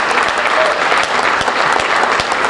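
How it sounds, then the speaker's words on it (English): Sustained audience applause for student athletes at a high school varsity jacket night, dense and loud clapping filling the room steadily throughout. "Let's give our student athletes one more round of applause"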